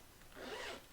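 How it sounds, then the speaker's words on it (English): A zipper closes across the top compartment of a drone case in a single short, quiet rasping pull lasting under a second. "there's a nice compartment for up here on the top, zipper closed"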